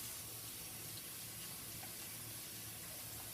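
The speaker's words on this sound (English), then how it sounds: "Go ahead and open the water." Water runs steadily from a tap into a sink at a handwashing station, a faint, continuous hiss with no talk.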